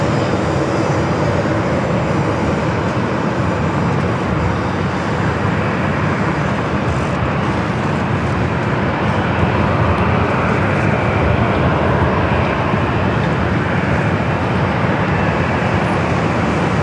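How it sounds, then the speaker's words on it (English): An American Airlines Boeing 787 Dreamliner bound for Tokyo Haneda takes off from the north side at LAX, a loud, broad, sustained jet roar that stays steady throughout without voices. "that flight to Tokyo Haneda, that is the Dreamliner, that American Dreamliner, heading up here for north side takeoff"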